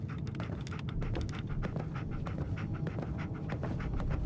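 Dogmeat, the dog companion in Fallout 4, pants steadily and close in rapid, breathy rhythm throughout, with no talk over it.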